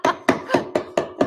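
Hammer blows striking wood while a scrap-wood cutting board is built, six sharp, evenly spaced knocks in quick succession, close and loud with no talking.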